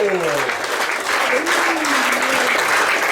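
Steady, dense applause from a crowd at the ESBF women's handball team presentation (Ligue Butagaz Energie), with an announcer's voice faintly under the clapping for the first seconds.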